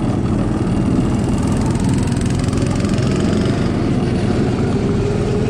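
A theme park ride vehicle's engine drones at a steady, close, mid-pitched hum, constant for the whole stretch with no voices over it.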